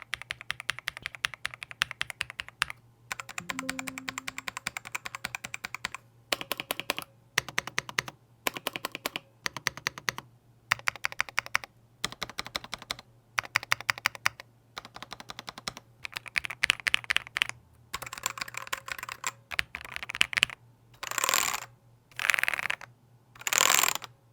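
Typing on Ajazz AK992 mechanical keyboard with red switches and an Ajazz AK820 Pro mechanical keyboard, bursts of rapid close key clacks separated by short pauses, ending with denser, louder rolling bursts.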